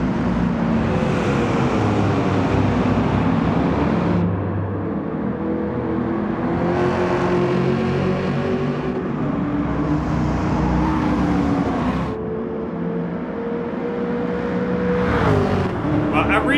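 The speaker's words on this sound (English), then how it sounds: "Trans Am is also one of my favorite American cars." A Trans Am engine drives in Gran Turismo 7, its steady drone rising and falling through gear changes. The sound is loud and continuous throughout, with a few brief quieter dips.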